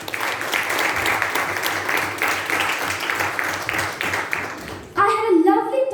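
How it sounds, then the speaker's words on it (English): An audience at a youth leadership programme grand finale applauds with dense, steady clapping for about five seconds, then it gives way to a louder voice speaking. "everybody shall give it a huge round of applause"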